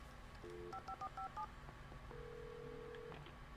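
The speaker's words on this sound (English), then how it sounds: "There's the phone." DTMF keypad tones dialing a telephone in the Alan Wake video game, a quick run of short beeps followed by a longer steady tone, clear over a low background hum.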